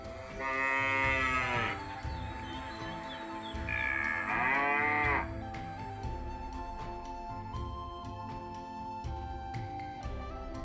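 A cow moos loudly twice, long drawn-out calls, with quieter farmyard sounds and a steady hum between them.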